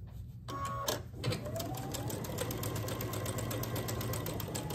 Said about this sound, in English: now I'm going to sew them together